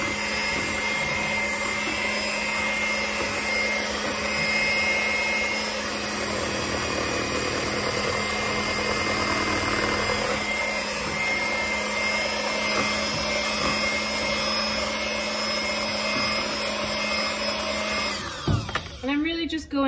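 An electric power mixer runs on its first setting, whirring steadily as it blends alginate casting powder. The whine holds for nearly twenty seconds before a few clattering bumps at the end.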